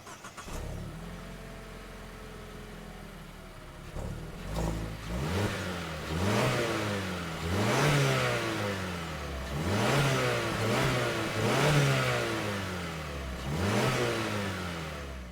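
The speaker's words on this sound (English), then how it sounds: "So I think it's high time we take this car for a spin." A 2024 Mazda CX-50 Turbo Premium Plus crossover accelerates hard on the road, its engine revving up through several gears in repeated rising sweeps with brief dips at each shift, loud and steady throughout.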